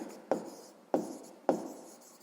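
Pen strokes on paper while writing out a sixth-grade maths exercise answer: three short scratchy bursts, each starting with a sharp tap and trailing off, close and quiet, with no voices.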